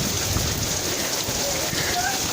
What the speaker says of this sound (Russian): Дождь, ливень!